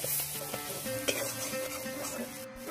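Steady sizzle of spice paste, including cumin paste, being stirred in a pan for paneer butter masala, close up, with a few soft scrapes over a continuous frying hiss.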